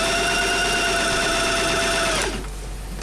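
A Singer 2250 sewing machine runs a straight stitch at a steady, fast whir, loud and close, with no talking, then cuts off abruptly near the end, leaving a quiet room hush.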